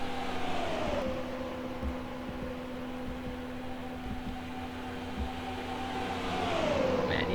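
Stock cars racing side by side at Kentucky Speedway, engines droning steadily as they pass, with a sustained tonal whine that dips and rises as the cars go by, some distance from the listener.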